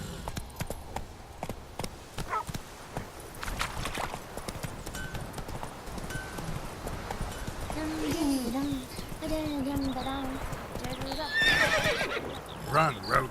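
Roach, a horse in The Witcher 3, clip-clops along at pace with repeated neighs and whinnies rising near the end, under game music and a voice calling to the horse.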